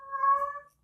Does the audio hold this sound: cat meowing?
yes